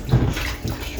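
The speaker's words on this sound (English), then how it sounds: "Pour this water" Water is poured out in a kitchen while vegetables are washed, giving a steady, close splashing rush with no speech.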